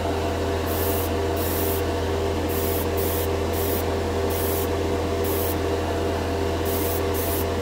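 MADWORKS dual action airbrush spraying black paint at about 20 PSI, a steady close hiss of atomized paint over a constant compressor hum, with the airflow cutting in and out in short bursts.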